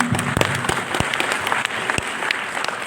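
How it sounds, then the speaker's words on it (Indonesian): An audience at a Pancasila month gathering in Banyumas breaks into applause, a burst of many hands clapping with a few sharp louder claps standing out, close and steady for the few seconds. "Tepuk tangan."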